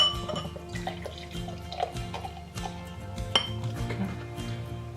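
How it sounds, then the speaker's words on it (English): Odell craft beer poured into a glass, with clinks of glassware and liquid sloshing over a low background hum, no one talking. "I'll pour you first, sir."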